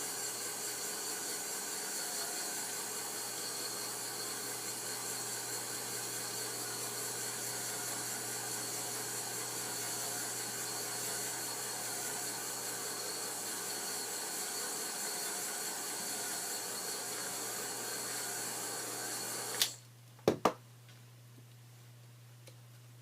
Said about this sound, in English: I'm going to give it another shot of heat again just to make double sure it's all good and dry.